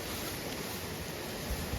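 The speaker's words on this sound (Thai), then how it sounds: "น้ำตกไหลมาแล้วสวยงามมาก" Steady, loud roar of a flowing waterfall, a continuous broad rush of water with no pauses or voices.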